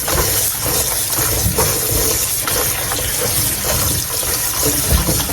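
Running tap water gushes steadily into a sink while radishes are rinsed under it, a close, continuous wash of splashing with faint bumps of handling.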